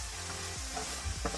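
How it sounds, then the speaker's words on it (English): Broccoli pasta with tomato puree and soy sauce being stirred in a hot pan, with a soft, steady sizzle and a few faint scraping stir sounds. "I'm gonna mix this well now."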